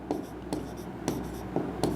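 A pen writes an entry on the credit side of a partnership firm's realisation account, with several short scratchy strokes spaced through a quiet room and no talk.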